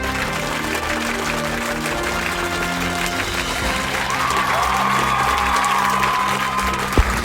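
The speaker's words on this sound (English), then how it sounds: "Let's give a big round of applause" A studio audience at a New Year's Eve show claps and cheers loudly and steadily, a thick wash of applause with whoops and shouts rising through the middle and holding to the end.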